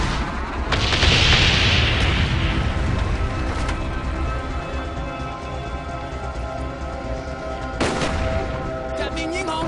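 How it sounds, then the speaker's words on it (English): Bomb strike explosions in Call of Duty Black Ops multiplayer on the Jungle map: loud, booming blasts and rumbling impacts roll on continuously, with sharper bursts at the start and again near the end amid gunfire. "Bomb strike coming in."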